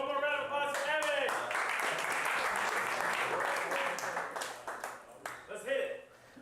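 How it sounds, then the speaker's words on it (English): Warm applause from a meetup crowd fills the room for several seconds, dense steady clapping that thins out toward the end as a voice begins speaking. "one more round of applause for Evan"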